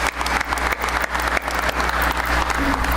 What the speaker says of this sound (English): give a round of applause to Curtis and the doctor here